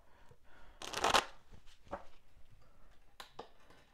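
Tarot cards are shuffled in a few quick riffling bursts, a loud close flutter near the start followed by softer shuffles and a brief snap later, with no talking over them.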